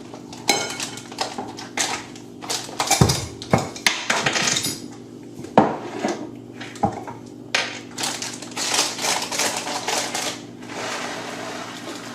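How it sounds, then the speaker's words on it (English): Peppercorns poured into a pepper mill, a run of loud, irregular rattling and clattering bursts of hard little grains striking the mill, close up, with brief pauses between pours and no talking. "Meanwhile, we'll fill up the pepper mill with some peppercorns."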